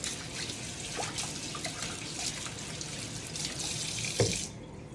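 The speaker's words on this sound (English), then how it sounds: "first I'm gonna wash my hands." Hands are washed under a running kitchen tap, a steady close splash of water with small shifts as the hands move, then a brief clunk before the flow cuts off.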